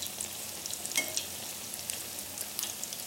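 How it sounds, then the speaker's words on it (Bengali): Stuffed sweet rice cakes with a sandesh filling fry in oil, making a steady, even sizzle with a few small crackles and pops throughout. "একটা পিঠ ভালো করে ভাজা হলে তখন আস্তে আস্তে এগুলোকে উল্টে দিতে হবে"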